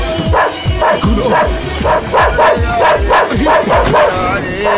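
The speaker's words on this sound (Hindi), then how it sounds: "भैया, कुत्ते को रोको भैया" A dog barks and yips repeatedly in a steady, rapid rhythm, loud and close, with people talking over it in a tense Hindi action-film scene.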